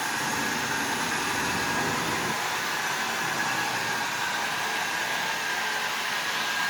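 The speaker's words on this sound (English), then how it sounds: "Wow, those wheels are really, really slipping." A Lionel 246 toy train locomotive runs with its wheels slipping, giving a steady whirring motor hum with a harsh broadband rush. It stays continuous and close throughout, with no talking.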